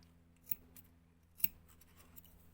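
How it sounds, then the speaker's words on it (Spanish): Scissors snip through yarn strands for a Wayuu mochila: two crisp, close cuts about a second apart, with faint rustling in an otherwise quiet room. "Aquí, y cortamos la otra."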